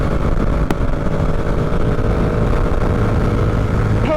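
Dirt bike engine droning steadily while riding, a loud continuous roar with heavy wind buffeting, close and unbroken throughout.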